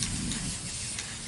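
A spray paint can hissing continuously as yellow paint is sprayed onto wooden lattice, a steady close airy spray with slight variations in pressure and no talking.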